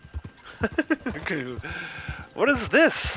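A horse in the game Red Dead Online whinnies and snorts with clip-clop hoof sounds, close and clear, while a person speaks briefly over it.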